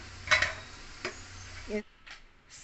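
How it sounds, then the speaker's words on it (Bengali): A crispy fried potato spring roll is snapped apart close up: a couple of sharp, quiet crunches, followed by a brief murmur of voice. "আমি এখানে ভেঙে দেখাচ্ছি কতটা মুচমুচে হয়েছে।"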